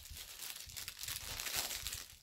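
A plastic bag of diamond painting drills crinkles and rustles close up, steady rustling bursts over about two seconds with no talking.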